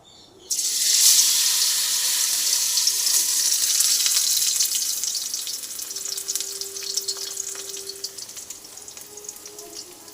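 A besan-battered water lily flower chop dropped into hot oil sets off a sudden loud, bright sizzle that holds strong, then slowly eases off as it fries alone.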